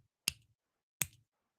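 Two crisp finger snaps ring out about three-quarters of a second apart, sharp and near, each followed by a brief soft tail against otherwise silent surroundings.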